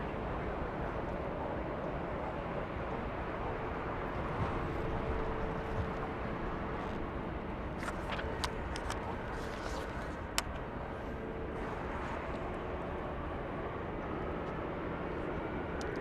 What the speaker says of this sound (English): We have Lufthansa on taxiway Lima heading to the gate.